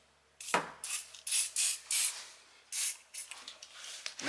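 Short bursts of PTFE lubricant spray hiss onto the Targa roof handle mechanism of a Honda Del Sol, several quick squirts in an uneven rhythm, close and crisp.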